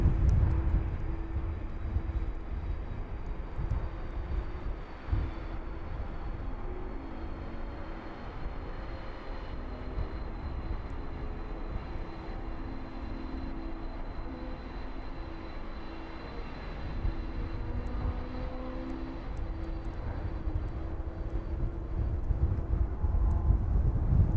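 A Boeing 767 arriving from Philadelphia lands at East Midlands Airport, its jet engines a sustained roar with a slowly shifting whine, heard from a distance through gusty wind noise.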